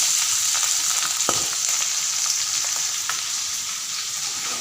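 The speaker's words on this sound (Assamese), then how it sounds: "মাছকেইটা ফ্ৰাই কৰি আছোঁ, ভালকৈ ধুই পখালি।" Small fish fry with onion in a pan, giving a loud, continuous close-up sizzle with a few sharp crackles scattered through it and no speech.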